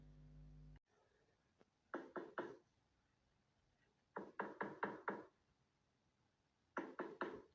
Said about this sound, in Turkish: Kapı çalıyor ya.